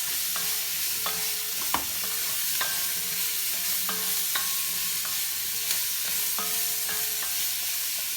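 Vegetables seasoned with black pepper sizzle and fry in a pot for pot roast, with a steady hiss and repeated scraping stirs at regular intervals, no talking.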